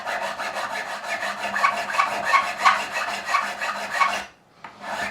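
A metal file rasps across a fret end on a Fender Telecaster in rapid, even back-and-forth strokes, close and dry, with a brief pause before the strokes resume.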